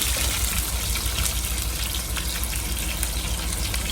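Two large heads' worth of onions sizzle in hot oil in a pan for chicken curry, a steady close, loud frying hiss throughout with no talking.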